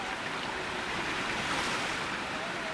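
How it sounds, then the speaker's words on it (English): Swirling floodwaters rush around submerged homes and bridges near Sangli city in Maharashtra, a constant loud broadband roar of moving water with wind buffeting, no talk. "Submerged homes, submerged bridges and swirling floodwaters in areas surrounding Sangli city."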